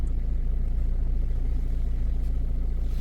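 A Renault Kadjar's 1.5 dCi 110 diesel engine idling with an unstable-idle fault: a continuous low, even rumble with a steady pulse, no voices present.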